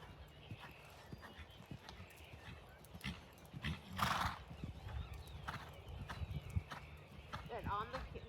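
Horse cantering over poles during an eventing warm-up, soft rhythmic hoofbeats on the ground under a rider coach talking, with a brief louder snort or whinny midway.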